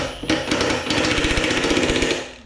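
A power tool drives down the bolts on a motorcycle seat with a loud, rapid buzzing rattle. It starts after a short pause and runs for about two seconds before trailing off.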